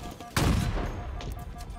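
Burst of gunfire from a weapon in the video game Halo Infinite during a Big Team Battle match, a sudden loud blast followed by sustained rapid shots and echoing reports that continue to the end.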